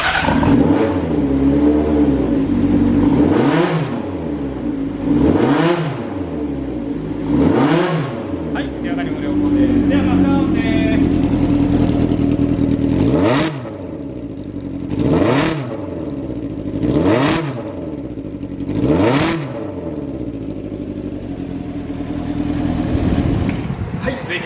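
A 1st-generation domestic Honda CBX400F with a chrome collector exhaust starts and idles, then revs repeatedly in sharp, evenly spaced bursts, loud and close, with a steady engine hum between blips.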